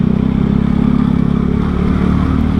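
A motorcycle fitted with an aftermarket ZZ exhaust runs loud and close, its throaty, pulsing exhaust note holding steady with a slight rise in revs, no voices over it.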